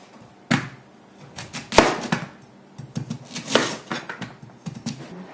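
Beef chopped with a large knife on a board, a series of irregular sharp thuds and knocks, some louder than others, spaced unevenly over several seconds, close by with no talking.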